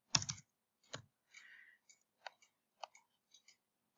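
A computer mouse clicking at a desk, a string of sharp, close, separate clicks with short gaps between them, and no talk.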